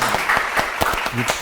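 Audience applause at a live Indonesian comedy talk show, a brief, steady wash of clapping with a voice speaking briefly over it.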